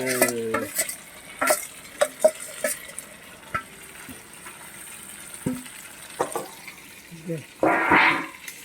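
Tomato and spices frying in a pan at a home picnic, with repeated clanking spatula stirs against the pan over a soft sizzle and scattered voices nearby.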